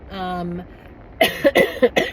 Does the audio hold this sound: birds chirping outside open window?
no